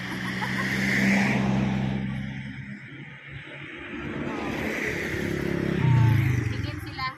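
A truck approaches along a road, its engine rumbling and swelling twice as it draws near, with people talking over the vehicle noise.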